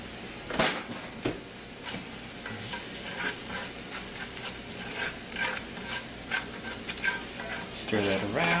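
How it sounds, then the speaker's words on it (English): Smoked pepper being stirred into paella in a pan, a soft sizzle with repeated scraping strokes and light clinks of a utensil against the pan at an uneven pace, quiet and close. "Stir that around"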